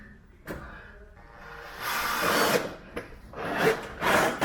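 A power drill bores through plastic on a Smart Car Fortwo W450 exhaust, with bursts of motor whine and grinding through the material between short pauses and handling knocks.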